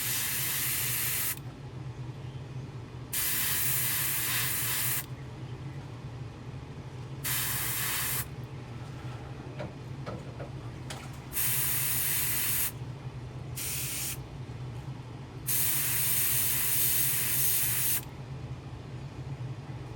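An airbrush sprays paint through a stencil onto a craw fishing lure in repeated bursts of steady, close hiss lasting a few seconds each, separated by pauses with a low background hum.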